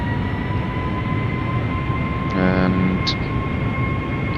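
Boeing 757 jet engines spooling up in an Icelandair flight simulator game at Manchester, a steady loud roaring drone with a sustained whine that swells slightly partway through, with a brief spoken word over it.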